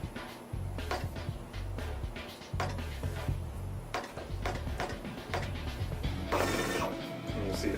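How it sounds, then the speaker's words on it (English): Zebra RXi4 label printer calibrating, its media stepping back into the machine: a steady run of mechanical clicks, ratcheting ticks and motor whirs, close and fairly quiet, with a brighter burst of feed noise near the end. "the media stepping back into the printer, calibrating that label"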